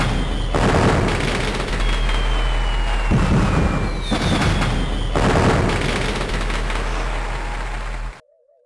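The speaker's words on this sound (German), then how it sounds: "Hui, Feuerwerk," A rapid string of loud booms and crackling bursts from a fireworks display in the video game Lollipop, with whistling rockets streaking up between the blasts.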